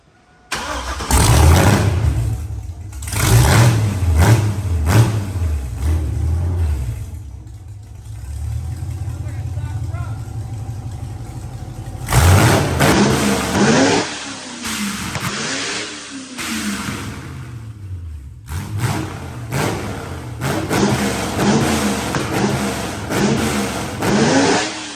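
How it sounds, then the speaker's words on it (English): A JH gasser car with zoomie headers and a 200 horsepower nitrous shot fires up and revs hard in loud bursts, settles to a lumpy idle, then revs again, with people talking over and between the revs. "let's fire it up and see how she Yeah, sounds."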